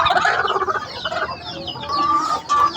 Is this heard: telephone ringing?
no